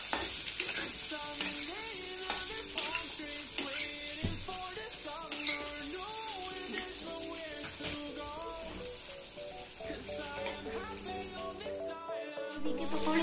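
Arbi (taro) leaf pakoras fry in oil with chilli, giving a steady close sizzle broken by scraping stirs, with tonal sounds running in the background.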